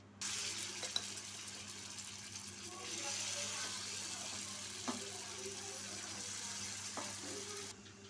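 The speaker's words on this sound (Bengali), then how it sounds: "দিয়ে ঢেলে দেবো আমার পনির।" Paneer poured into hot mustard oil in a pan, a continuous hissing sizzle that swells partway through, with a few faint clicks and knocks of utensils, moderately quiet and alone.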